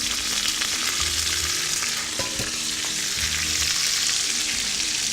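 Peppers, zucchini and pine nuts frying in the bottom of a gnocchi sauce, a loud steady close sizzle with intermittent stirring scrapes and clinks, no voices.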